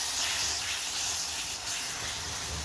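Onion, ginger and garlic paste frying in a pan, a steady close sizzling hiss that stays fairly even throughout.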